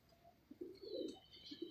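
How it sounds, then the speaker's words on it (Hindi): A pigeon gives soft, low, rounded coos in a short run of notes, faint and fairly distant, with no talking. "लो जी देखें दोस्तों कबूतर"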